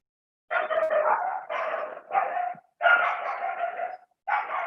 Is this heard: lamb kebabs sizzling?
no